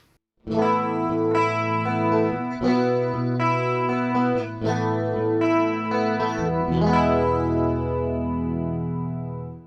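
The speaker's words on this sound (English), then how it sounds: "We have a stereo pitch detune." An electric guitar strums shimmering 80s clean chords through a stereo pitch detune effect set to plus or minus 5 cents, giving a wide, chorus-like sheen, ringing out clearly and fading on the last sustained chord.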